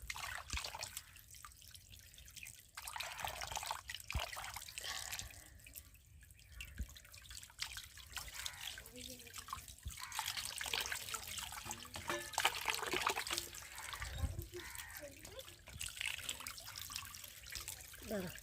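Tap water running and splashing in a sink while fish are washed, a continuous soft trickle with drips and shifting splashes, fairly faint and close, no talking.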